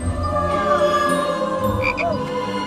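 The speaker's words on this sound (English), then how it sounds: "Just need to kiss the frog, Gretel." A cartoonish frog croak sound effect plays during a TV obstacle-course game show. Repeated warbling croaks run over a couple of seconds against steady studio background noise.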